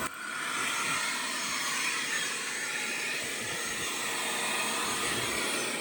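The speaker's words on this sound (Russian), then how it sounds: "Здесь видите, почему я пылесошу?" Vacuum cleaner sucking up foam in a yard, a steady, loud broadband whoosh of suction that runs unbroken from start to end with no voices over it.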